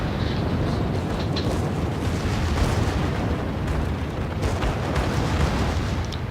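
Naval battle in the game World of Warships with a ship ramming another: a loud, dense, unbroken roar of rumbling blasts and explosions, with no talking heard over it.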